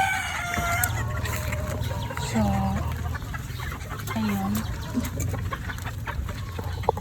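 Backyard chickens cluck and call intermittently at feeding time after heavy rain, with someone talking throughout over the birds and a steady outdoor background.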